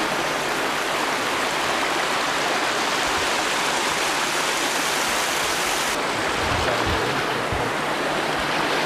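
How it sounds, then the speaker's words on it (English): Water rushes steadily through a small hydro intake, a loud, continuous broadband roar close by, with a few low thumps and gurgles toward the end. "I catch about half the water flow that comes down"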